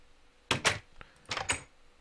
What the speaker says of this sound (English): the door closes as soon as the button cycles